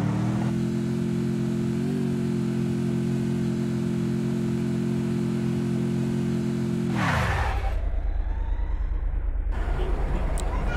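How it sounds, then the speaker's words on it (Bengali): A motorbike engine in a video game starts up and runs with a steady loud hum, then drops in pitch and fades into rougher noise partway through. Someone talks over it. "তো আমি এখন বাইক স্টার্ট দিলাম"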